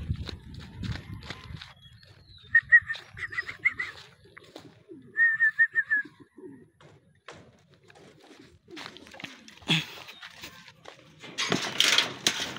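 Racing pigeons arriving at a loft during a race's final lap, with soft repeated cooing in short bursts, light flapping and scuffling, and occasional footsteps and clatter nearby.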